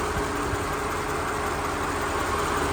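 Hand-built AMG engine of a 2002 Mercedes-Benz CLK55 AMG triple-black convertible with 1,859 miles, idling steadily close by with a smooth, even low rumble and no voices.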